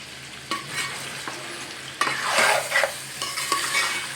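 Green chillies and curry leaves fry for chicken fry with a close, crackling sizzle, cut by several sharp scraping stirs of a spoon in the pan.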